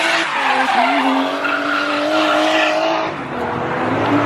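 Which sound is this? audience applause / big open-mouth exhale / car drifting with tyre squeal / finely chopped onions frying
car drifting with tyre squeal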